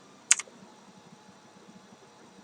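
A single sharp key click on a computer keyboard, followed by quiet room hum.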